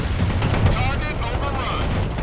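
Bradley APC gunfire in the video game World in Conflict: dense, sustained bursts of automatic fire and explosions over a continuous battle din, with radio-style voices mixed in.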